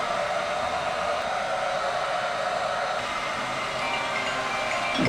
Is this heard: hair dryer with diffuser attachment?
yes